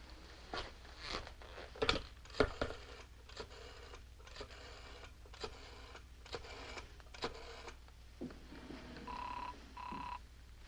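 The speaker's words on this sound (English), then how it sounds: "why don't you phone Willie's office and ask for Mr. Templar?" An old telephone is dialed, with a series of short mechanical clicks and whirs of the dial, followed by a couple of electronic ring tones near the end, faint and close in a quiet room.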